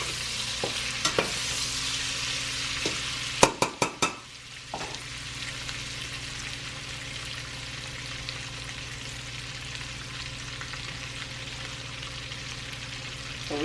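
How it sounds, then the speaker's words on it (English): Vegetables sauté in a pan with a continuous close sizzle, broken early by several sharp scraping and knocking stir strokes against the pan before settling into an even hiss. "So allowing this to get in here and saute. All we want to do is saute them."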